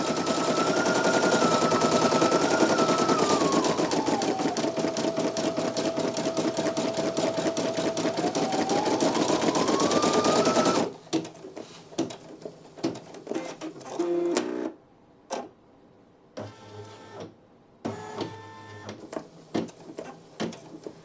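A Brother PE-900 embroidery machine stitches steadily and loudly for about eleven seconds with a rapid, even mechanical chatter, then falls quiet apart from scattered short clicks and small handling noises.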